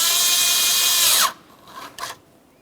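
A power driver spins hard as it tightens a hose clamp on the air intake of a 2015-2020 Cadillac Escalade, a loud whir that winds down abruptly, followed by a few faint handling noises.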